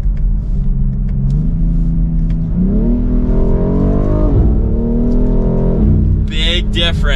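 A 2024 BMW X3 M Competition accelerates hard in M mode, its engine note climbing steadily in pitch through the gears, loud and close, with a brief shift break near the end.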